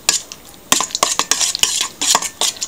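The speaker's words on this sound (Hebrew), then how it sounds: "אני מערבב את הכל." Matzo brei mixture with grated yellow cheese and sliced olives being stirred in a bowl: a run of close, crisp utensil scrapes and clinks in an uneven rhythm, with no voices.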